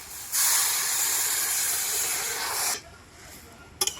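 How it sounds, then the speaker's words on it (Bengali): A small amount of water poured into a hot pan of spice-fried taro stems sets off a loud, steady steam hiss for about two and a half seconds, then cuts off abruptly, followed by a brief clatter. "এবার আমি অল্প জল দিয়ে দেবো"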